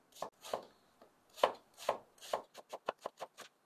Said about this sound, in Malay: Jadi guna bawang Holland. Kita kena potong sama saiz.